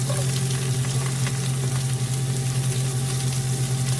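Green beans and broccoli hit a hot frying pan with a loud, steady sizzle that runs continuously with no one speaking, stirring faintly audible beneath.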